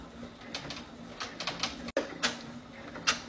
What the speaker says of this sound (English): Now it's stitching the satin stitches over the foam, and it's gonna create that raised look.